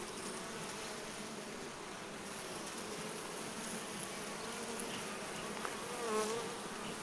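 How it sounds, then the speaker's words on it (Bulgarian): Bees buzz steadily and continuously around flowers outdoors, a dense close hum with no voices. "Хола на пчеличките."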